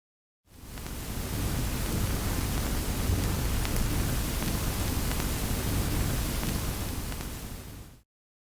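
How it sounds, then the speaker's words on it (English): Tape noise from the FlyTape 2 noise slider: a steady, full-band hiss fading in and holding evenly for about seven seconds before cutting off, with nothing else heard. "FlyTape 2 has a noise slider that introduces tape noise character into the audio"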